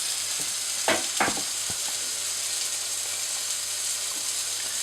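Lamb kofta browning in a hot frying pan gives a steady, quiet sizzle throughout, with a couple of brief louder crackles near the start.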